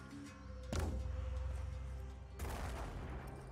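Gunfire from the video game Phoenix Point: two loud bursts of rapid shots, the first lasting about a second and a half and the second following shortly after, each trailing into a rumbling decay.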